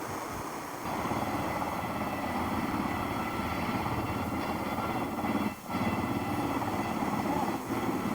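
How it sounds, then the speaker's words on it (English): A low-flying helicopter passes overhead in Germany with a loud, continuous rotor rumble and rhythmic chop that stays steady for several seconds and briefly dips once near the end. "it's kind of a low flying helicopter?"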